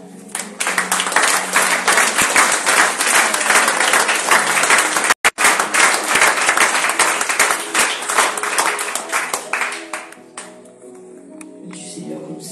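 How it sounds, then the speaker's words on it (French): Church congregation applauding and cheering during a Friday worship service, a loud dense burst of clapping that carries on steadily before tapering off near the end. "Est-ce qu'on peut acclamer la parole?"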